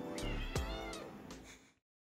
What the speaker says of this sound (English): Meeting the kitties.